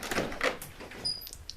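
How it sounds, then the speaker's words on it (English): A house door opens on the way out to a snowy garage, a few soft knocks and rustles followed by a faint latch-like squeak, fairly close and quiet with no talk. "I'm heading up the stairs and heading right out the door"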